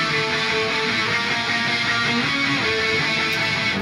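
Ambient electric guitar tone from the Neural DSP Archetype: Misha Mansoor plugin with its glitch layer switched off, a dense sustained wash of shimmering chords and reverb that stays loud and steady throughout with no talking.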